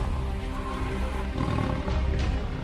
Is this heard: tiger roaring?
yes